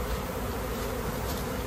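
A swarm of honeybees whirls around a branch in a short, close, continuous buzzing drone of many wings.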